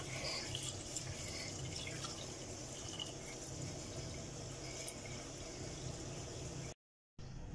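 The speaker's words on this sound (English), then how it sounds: "Let's add some water." Water runs from a tap into a small cooking pot in a steady, quiet stream, splashing continuously before cutting off abruptly near the end.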